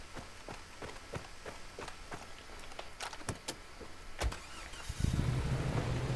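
A car in the video game Far Cry 2 drives along with a steady engine rumble and rhythmic thumps, then revs louder near the end as it pulls away.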